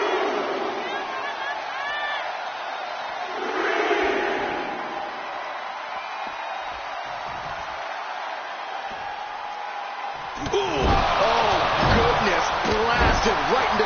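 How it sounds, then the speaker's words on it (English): Crowd noise from the WWE 2K25 wrestling video game swells and roars, rising louder toward the end with heavy impact thuds, under continuous commentary voices. "The crowd is fired up."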